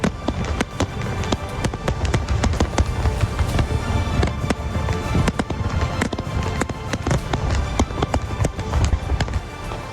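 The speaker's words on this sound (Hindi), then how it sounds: "यहां नए साल के मौके पर जमकर आतिशबाजी की गई।" New Year fireworks over Auckland, New Zealand, a dense barrage of sharp bangs and crackling bursts going off continuously at close to moderate distance, loud and sustained throughout.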